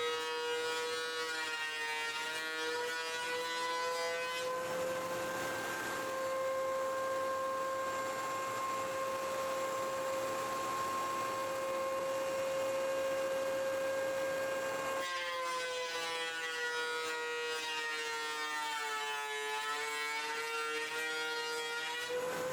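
A wood planer runs with a steady loud whine while a board feeds through, the pitch dropping under load and recovering as the board clears the cutter.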